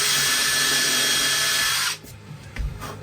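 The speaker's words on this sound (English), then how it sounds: "I'm just going to drill them out so they're an actual hole" A power drill whines steadily at high speed for about two seconds, drilling out holes in a vintage Silvertone Jupiter guitar, then stops, followed by a few thumps and handling noises.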